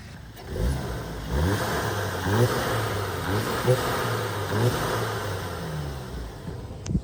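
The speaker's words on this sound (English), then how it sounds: "We have all the turbo sound that this car could produce." A turbocharged engine in a modified Volkswagen/Audi MQB-platform car revs repeatedly, rising and falling in pitch with a steady rumble underneath, close and fairly loud.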